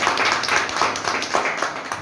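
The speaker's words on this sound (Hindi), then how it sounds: "संजय जी के लिए ताली होनी चाहिए" Hands clap together at a meeting in an indoor crowd, a dense steady patter of applause that carries on evenly for a couple of seconds.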